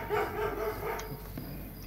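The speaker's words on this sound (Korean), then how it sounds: "개 짖는 소리 좀안 나게 해라." A dog barks briefly in the 2D side-scrolling action game Void Memory, one or two short yaps set against a steady game backdrop.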